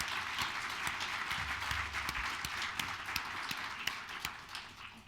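An audience at a healthcare leadership event's opening remarks applauds, a moderately dense run of clapping with distinct individual claps audible throughout, steady and somewhat distant.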